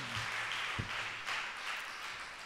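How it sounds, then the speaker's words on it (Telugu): An audience clapping hands at a church ministry gathering, a steady, dense wash of applause lasting the whole moment, moderately loud and continuous without pause. "చప్పట్లు కొట్టండి"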